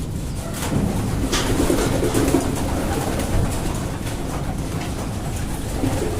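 Racing pigeons cooing in a loft, several soft overlapping coos close by over a steady hiss of background noise, with no talking.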